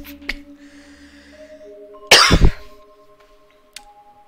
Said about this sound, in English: Just have a massive coughing fit.